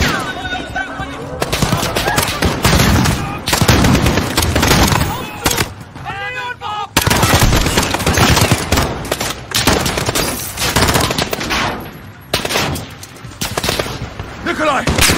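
Dense, loud bursts of automatic and single gunfire in the Call of Duty Modern Warfare combat mission, continuous and chaotic with explosions, while voices talk over the shooting.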